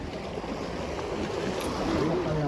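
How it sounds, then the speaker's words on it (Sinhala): A fishing boat pulls into a harbour at Kalametiya, its low engine rumble blending with steady wind and lapping water, a continuous wash that swells slightly toward the end. "මේ බෝට්ටුව ආව ඔන්න"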